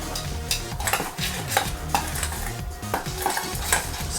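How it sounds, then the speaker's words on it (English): Flour mixed with salt and garlic powder being stirred in a bowl, a continuous close scraping and rustling with soft utensil knocks throughout. "We're just going to stir this up"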